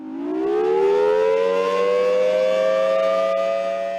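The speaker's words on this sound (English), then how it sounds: "We don't run the siren on a regular basis." Civil defense warning siren at a nuclear missile site, a single loud rising wail that climbs and then holds a steady tone, heard alone.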